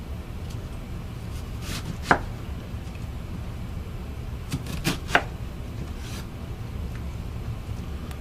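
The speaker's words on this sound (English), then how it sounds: "Cut your onion in half." Knife cutting an onion on a board, a few sparse soft chops and taps against quiet room noise, close but faint.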